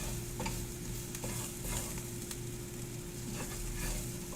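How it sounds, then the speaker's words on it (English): Flour stirred in a frying pan while cooking barramundi, with a continuous soft scraping and gentle sizzle over a steady low hum and no talking. "stir that until the smell from the flour is gone"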